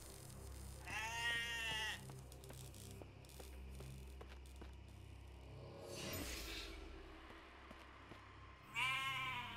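Sheep in the video game Sker Ritual bleat loudly in a few long, wavering cries separated by pauses, set against a low rumbling game backdrop, with no one talking.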